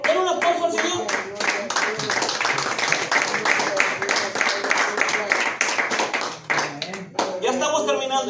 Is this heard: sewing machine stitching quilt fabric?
no